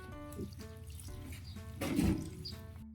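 Water poured from a container into a cooking pot for Filipino ginataang bangus with ginger, onion and garlic, a short gurgling splash that swells near the end over a faint background hum.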